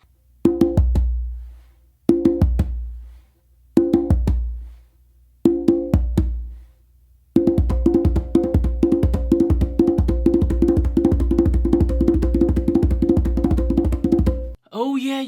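Deep, booming conga bass tones alternate between dominant and non-dominant hands, first as four spaced pairs and then as a fast, steady run of strokes, loud and close, ending with a short bit of talk.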